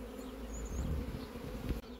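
Honeybees on brood frames in a hive hum in a low, dense drone, many buzzing together up close in a continuous swarm sound.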